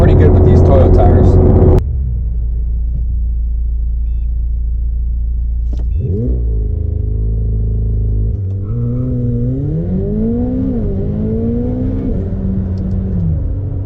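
A car on Toyo R888R tires with super lightweight wheels launching 0-60 on the street, loud engine rumble rising in pitch through gear changes, with a sharp cut in noise early on and the engine revving steadily upward.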